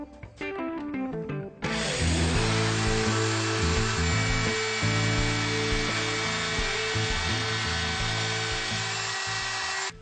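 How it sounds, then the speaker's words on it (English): A router cuts a slot into wood for a stair-step chair, starting with a brief spin-up and then a loud, steady whining grind that runs continuously for about eight seconds. "I'm going to route a slot midway and I'll make it straight there"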